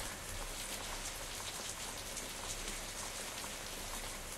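Steady rain falls in the cat adventure game A Street Cat's Tale, a constant soft hiss of drops with no pauses or voices.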